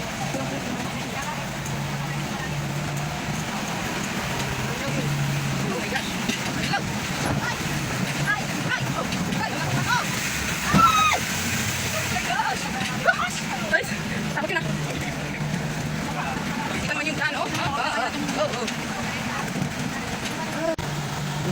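A vehicle drives through a river on a rocky trail, engine rumble mixed with rushing water and wind buffeting the microphone, with people talking over it throughout.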